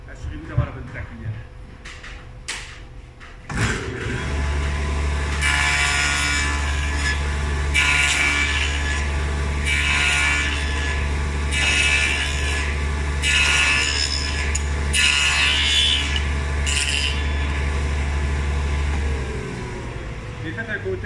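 A saw blade cuts a wooden tenon with a steady low machine hum under rhythmic rasping strokes, repeated passes for about fifteen seconds, loud and close before the motor winds down; someone talks in French before it starts.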